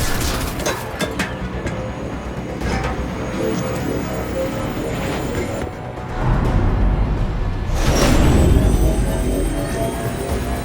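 A gunship aircraft in Mass Effect 2 drones with a loud, steady engine roar that swells into a heavier rumbling pass near the end, with faint booms mixed in and no voices.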